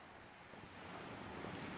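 Wind blows across the shingle of Chesil Beach on a rough day, a dense, steady roar of gusting air and surf noise that builds slightly and fills the clip with no voices.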